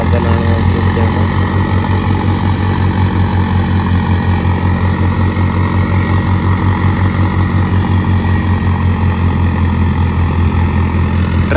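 A 50 hp tractor fitted with a turbo upgrade labors under load pulling a loaded trolley on a farm, its diesel engine producing a loud, steady throbbing drone throughout with no pauses.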